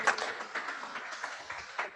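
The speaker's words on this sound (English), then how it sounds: "Let's give Dana a huge round of applause." A round of applause for Dana: faint, steady clapping from a small group, lasting a couple of seconds with no voices over it.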